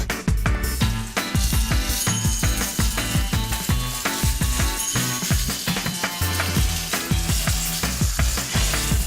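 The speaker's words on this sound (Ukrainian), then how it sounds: "А зараз звільняємо нашу пательню щоб туди відправити печінку" Liver frying in a hot pan, a loud, dense sizzle punctuated by rapid clicks and crackles of spattering fat, continuous and close throughout.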